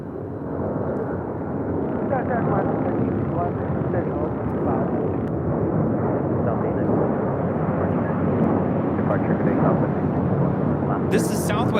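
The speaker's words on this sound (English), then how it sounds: "That is Western Global Airlines Flight 5272. It's an MD-11, 25 years of age." A 25-year-old Western Global Airlines MD-11 jet at LAX roars with a continuous, loud broadband rumble that holds steady throughout, with a voice talking over it.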